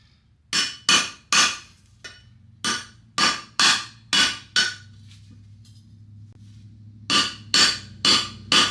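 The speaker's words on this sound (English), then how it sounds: "just need a bigger hammer," Close, loud hammer blows on the exhaust of a 1972 Chevy C10 pickup during a cheap exhaust install: a quick burst of strikes, a few evenly spaced hits with short pauses, then a final run of blows, each ringing sharply with no talk.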